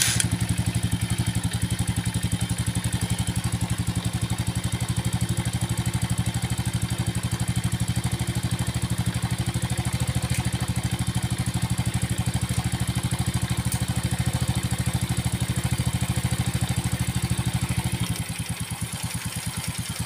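Yamaha Force motorcycle engine idling steadily up close during idle speed adjustment, a continuous low putter with metallic clatter that dips slightly near the end.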